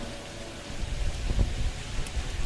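Rain mixed with wind, a steady broadband rush with a low gusty rumble that swells slightly midway and holds at moderate level throughout, with no voices.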